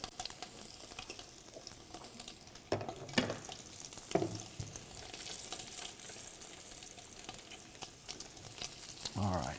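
Garlic frying in a pan during a healthy cooking class, a soft steady sizzle with a few louder stirring scrapes and clatters, fairly quiet and without talk.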